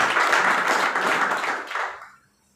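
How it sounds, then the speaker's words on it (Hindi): An audience at a business meeting breaks into dense, loud applause for Shri S.P. Pandey that goes on for about two seconds and then thins out and stops. "श्री एसपी पांडे सर के लिए जोरदार तालियां होनी चाहिए"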